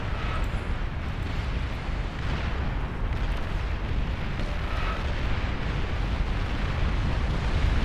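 Vulcan artillery fire and explosions in the strategy game Beyond All Reason form a continuous dense rumble of booms and blasts, loud and sustained, swelling slightly toward the end with no talking.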